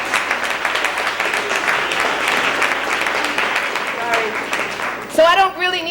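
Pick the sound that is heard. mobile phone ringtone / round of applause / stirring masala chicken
round of applause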